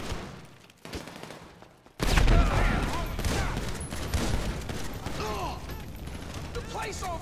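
Bursts of gunfire in a Grand Theft Auto V shootout follow a quieter moment, loud and dense with clattering mechanical sounds. Faint voices show at times.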